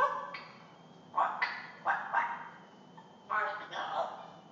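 An African grey parrot imitates a dog barking, giving several short, bark-like yelps in uneven bursts, close and fairly clear against a quiet background.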